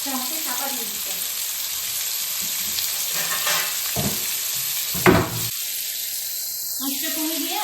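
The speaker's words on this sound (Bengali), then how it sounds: "দিয়ে এটা তেলেই কিন্তু ভাজা হবে আলুটা" Potatoes coated in turmeric fry in oil for a Hyderabadi-style mutton biryani with a continuous close sizzle, a brief clatter of utensils midway and a faint whine toward the end.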